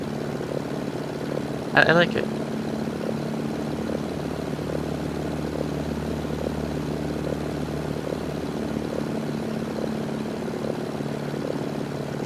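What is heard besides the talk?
warbird propeller plane flying in a video game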